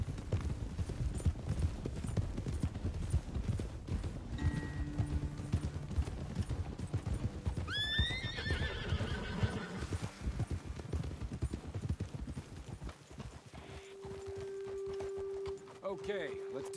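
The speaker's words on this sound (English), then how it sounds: "Best leave the horses back a bit." Horses in a Red Dead Redemption frontier setting, with steady hoof clip-clops on the trail, a whinny rising midway, and voices talking over the scene amid game ambience.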